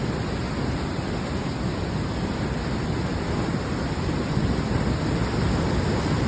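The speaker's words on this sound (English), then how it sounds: "Coming near the waterfall." Wood Lake Falls, swollen after 150 mm of rain, produces a steady, dense roar of rushing water, close and continuous with no pauses or voices.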